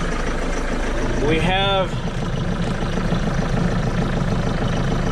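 A vehicle engine idles with a steady, fairly loud rumbling drone throughout, and a voice speaks briefly near the start.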